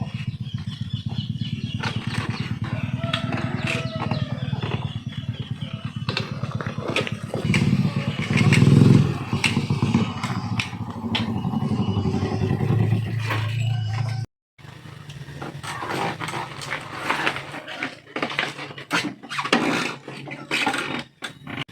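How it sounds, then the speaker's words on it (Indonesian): A motorcycle engine runs close by, a steady idling rumble that revs and swells around the middle before cutting off briefly and restarting with uneven, clattering revs. "suara motor si Umar teh."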